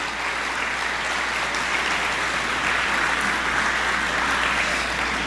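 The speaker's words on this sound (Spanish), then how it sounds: "Y le damos un aplauso fuerte al Señor Jesús." A church congregation gives strong applause to the Lord Jesus during a Spanish-language service, a dense, steady wash of many hands clapping at once, sustained for several seconds with no voices standing out.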